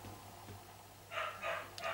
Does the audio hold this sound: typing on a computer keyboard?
no